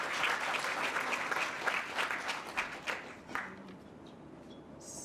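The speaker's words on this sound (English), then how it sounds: "Can you give this brilliant panel a round of applause at this point" An audience at a climate resilience conference session applauds the panel, a full round of clapping that thins out and fades toward the end.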